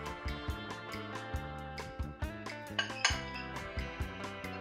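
Dry cookie ingredients tipped into a medium mixing bowl, a quick run of ringing clinks and taps against the bowl, close and fairly quiet with no talking.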